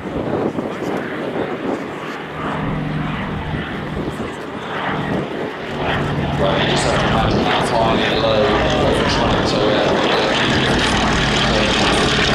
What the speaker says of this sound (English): I can't think of where else you'll hear a Pegasus engine running in the world